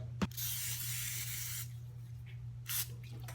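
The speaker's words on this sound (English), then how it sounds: "I'm going to spray my hands with some spray." A cooking spray can hisses onto hands in a long steady burst, followed after a pause by a second short spray, fairly quiet and close.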